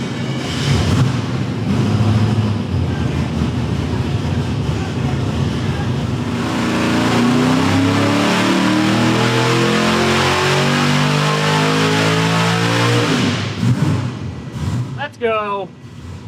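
A boosted Ford 302 small-block V8 revs hard on a dyno, loud and close, climbing through a long sustained pull before cutting off, followed by brief voices and a short whoosh.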